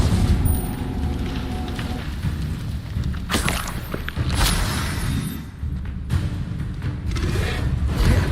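The Incendio fire spell in Hogwarts Legacy video game gives loud, dense, rumbling blasts and booming bursts against continuous combat noise, with several sharp hits along the way and no clear talking.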